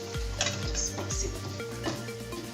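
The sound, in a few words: mixing fish sauce in a pan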